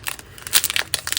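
Paper packaging around new stamping craft supplies crinkles and crunches up close in quick irregular bursts, several sharp rustles packed into a brief moment with no talking.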